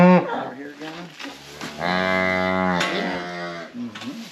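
Cattle on a farm mooing, a few long, loud, close lowing calls with strong tonal harmonics, separated by short pauses.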